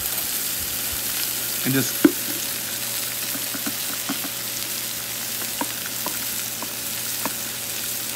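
Butter sizzles on a Blackstone flat top griddle, a steady crackling hiss throughout with a few sharp scraping clicks near the start, while a voice speaks briefly.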